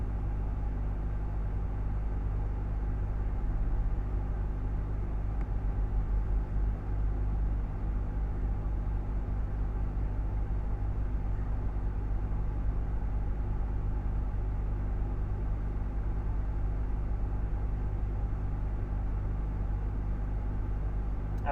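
A car engine is eased from idle to a gentle, steady light load, giving a continuous low, even rumble that stays close and constant with no sharp revving.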